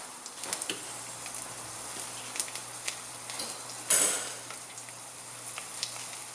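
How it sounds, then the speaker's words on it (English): Garlic sizzles in oil in a hot pan, a gentle crackling hiss dotted with light pops and small utensil taps, with one louder burst midway. "We're going to add some oil into a hot pan. Add in some garlic."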